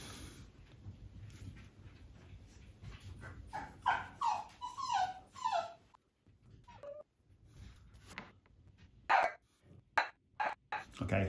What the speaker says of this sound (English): Okay, I need to sort out the dog,